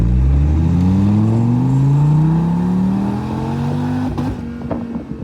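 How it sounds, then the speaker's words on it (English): A car engine accelerating hard in second gear, its loud revving tone rising steadily for about four seconds before easing off, heard up close with no talking. "And you can hear that second gear."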